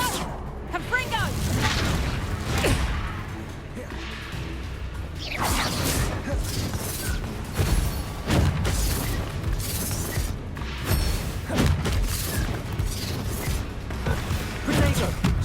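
The Confringo fire spell goes off in the Hogwarts Legacy video game, cast in haunted Hogsmeade. Booming blasts and crashes hit repeatedly over a busy game soundtrack, and a voice can be heard amid the action.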